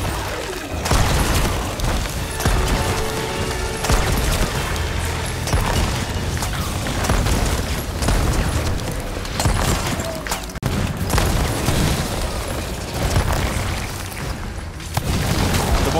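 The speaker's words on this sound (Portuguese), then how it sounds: "Canhão, hein?" Heavy booming cannon blasts from the video game Sea of Thieves, fired repeatedly in a dense, loud barrage with rumbling impacts and little pause between shots.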